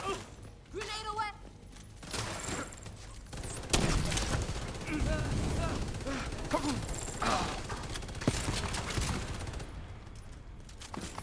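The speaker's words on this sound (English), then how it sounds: "It's a machine gun." A machine gun fires in a video game, with dense bursts of rapid shots and crashing impacts packed together, while a person talks over much of the action.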